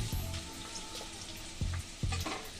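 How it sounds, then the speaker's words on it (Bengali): Chopped onions frying in hot oil in a pan for a Bengali katla fish kalia, a steady close sizzle broken by a few louder stirring scrapes, with no voices. "দিয়ে এটা একটু লাল লাল করে ভেজে নেবো"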